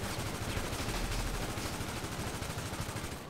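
Rapid automatic gunfire in Grand Theft Auto 5 Online, a dense stream of loud, close bursts that continue nearly without pause and taper off at the very end, with no voices.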